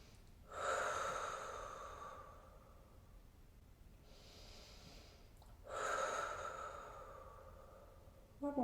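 Deep, slow breathing during a full-body stretching session: two long audible inhale-exhale cycles with a softer breath between them, close and quiet, with no speech.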